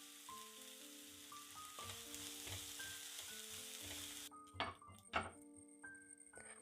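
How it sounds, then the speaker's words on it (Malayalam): Onion sautéing in a pan for brown bread upma, a steady close sizzle and frying hiss with scraping spatula stirs and light pan knocks, the sizzle dropping briefly before clattering stirs resume. "എന്നിട്ട് ഇത് നന്നായിട്ടൊന്ന് വഴറ്റിയെടുക്കുക"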